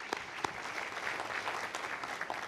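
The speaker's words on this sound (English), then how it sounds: "I'd like to give him a round of applause." A short burst of steady audience applause at an Ariane 5 launch event, honouring the deputy director of operations, with a few sharper claps standing out in the crowd sound.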